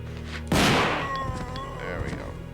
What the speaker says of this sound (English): I love the sound that the new shotgun does